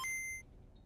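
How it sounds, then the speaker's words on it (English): A short electronic text message notification beep from a cartoon phone, a clear high tone lasting under half a second and then fading into quiet room noise. "Text message from everybody but Mikey knows who"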